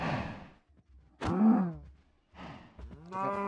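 A cow in Minecraft lets out several drawn-out moos in quick succession, clear and close, with brief quiet gaps between calls.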